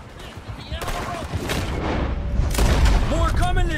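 Several loud gunshots and booming blasts crack out in a Red Dead Redemption 2 gunfight, irregular and close, mixed with shouting voices.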